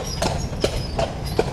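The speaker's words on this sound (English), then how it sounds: "we went on the horse-drawn carriage" Horse hooves clip-clop steadily as a horse pulls a carriage at Disney Springs, Walt Disney World, with four evenly spaced hoof strikes at a walking pace over low background rumble, no talk.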